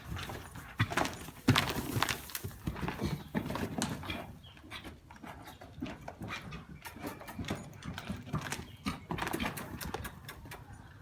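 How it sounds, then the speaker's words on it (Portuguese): A mare trotting, her hooves striking the ground in a brisk, steady clip-clop rhythm that stays close and clear throughout, with no talking over it. "Pego minha bandeira e deixo ela trotar."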